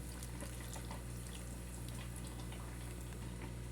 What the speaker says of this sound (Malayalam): രണ്ടാം പാൽ ഒഴിച്ചു കൊടുത്തിട്ടുണ്ടല്ലോ